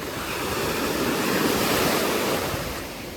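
Balearic Sea waves at Calella, Spain wash and roar in a steady, loud rush, swelling slightly in the middle, with wind noise and no voices.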